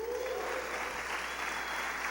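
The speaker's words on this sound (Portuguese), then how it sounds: "uma salva de palmas para o Julião." Steady applause from a crowd, continuous and even throughout, with no talking over it.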